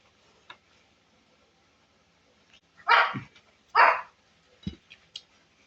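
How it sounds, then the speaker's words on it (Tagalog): A pet dog named Maya barks a few times nearby, begging for fried chicken at a meal, two strong barks followed by a shorter yelp amid quiet eating sounds. "May maingay na tumatahol."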